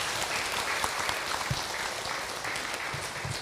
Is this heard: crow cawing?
no